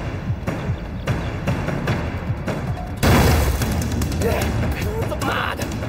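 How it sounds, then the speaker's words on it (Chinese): Landmine explosions in a war film, a loud boom bursting in midway over ongoing battle noise and dull thuds, with voices shouting underneath. "好你个马伯驹，竟然用上鬼雷了！"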